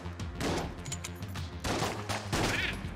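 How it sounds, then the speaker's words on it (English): Explosions and gunfire in the twin-stick shooter Enter the Gungeon, a dense run of bursts and blasts layered over game music, loud and continuous with several sharp peaks. "Nice explosion."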